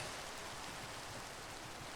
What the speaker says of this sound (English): we can sleep and maybe finally end this gosh darn rain